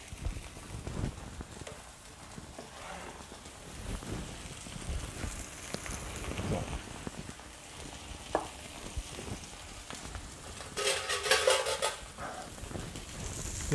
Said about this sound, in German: Den Chicory brate ich an